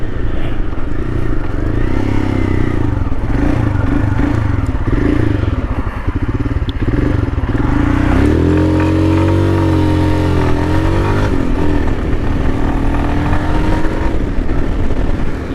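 A Royal Enfield Himalayan motorcycle idles loudly up close while warming up in cold weather, its single-cylinder thrum steady throughout, with a brief rise in revs partway through.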